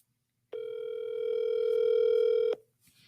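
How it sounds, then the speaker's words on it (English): An unanswered phone call rings back in the earpiece: a single steady two-second ringback tone, clear and close, starting after a short silence and cutting off abruptly. "Nobody's answering the phone."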